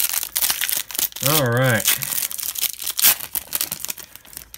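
Upper Deck 2019-20 Series 1 hockey card pack wrappers crinkle and tear as the foil packs are opened, steady crumpling close up with a voice speaking briefly over it.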